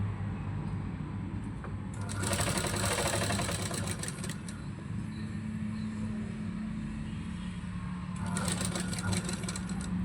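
A sewing machine stitching a baby frock, its needle running in fast bursts of rapid mechanical clatter, with a pause between runs, close and steady over a low background hum.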